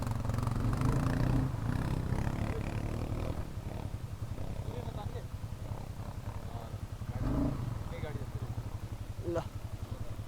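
An ATV quad bike engine idles and reverses near a river, a low, even throbbing rumble that swells briefly midway, with people talking over it.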